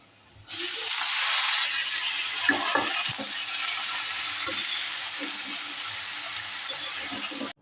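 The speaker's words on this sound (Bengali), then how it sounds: "এখন আমি এই যে তেল দিয়েছি শাক দিয়েছি" Bottle gourd greens with onion and garlic frying in oil in a pan: a loud, steady sizzle bursts in and carries on, broken by stirring clatters and scrapes.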